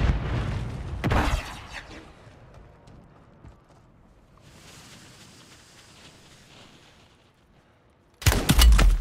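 Gunfire and grenade explosions in the Call of Duty Warzone video game: sharp, booming bursts at the start, a quieter rumbling stretch, then another loud blast near the end.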